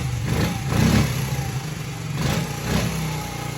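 A 1988 Honda Z50 small 50cc motorcycle engine runs just after a kick start on the second choke setting, a close, steady putter with a couple of slight swells in revs.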